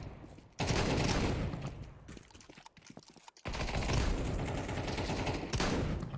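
Shotgun fire in the video game Counter-Strike 2, heavy sustained blasts filling most of the moment with a brief gap in between, loud and close, no speech over it.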